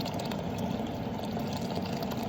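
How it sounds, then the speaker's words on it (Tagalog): Hot water pours steadily into a pan of cooked sardines for misua noodle soup, a continuous close splashing gush with no talking. "Lagyan naman natin siya ng mainit na tubig."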